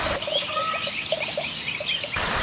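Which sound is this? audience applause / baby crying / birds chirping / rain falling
birds chirping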